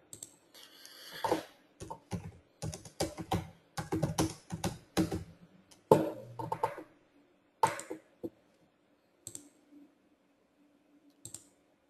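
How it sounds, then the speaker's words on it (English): A computer keyboard is typed on in bursts of rapid, close clicking, with short pauses between runs, then a few sparse single key presses toward the end, with no talk. "Might need to type it in."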